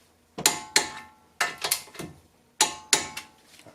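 A ratchet wrench tightens a 14mm bolt on a 2004 Infiniti G35X wheel bracket, crisp metallic clicking in three short bursts of two or three pulls each, close and alone.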